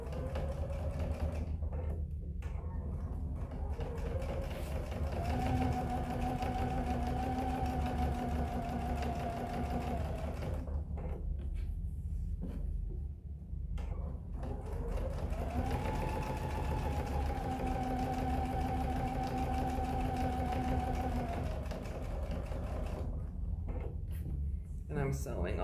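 A home sewing machine stitches a pocket onto a bag in a long, steady mechanical whir, with two sustained humming passes, under someone talking throughout.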